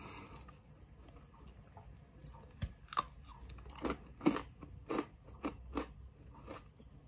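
Fox's Chocolate Part Rings biscuit being chewed close to the mic, a quiet series of about ten crunchy bites and chews in an uneven rhythm.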